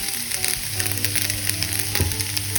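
Fresh coconut frying in a pan for a classic Bengali dish, a continuous bright crackling sizzle with scattered pops, close and steady throughout, with no talking.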